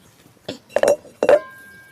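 A metal wok is set down on a lit clay stove with two sharp clanks, close and loud, separated by a short pause.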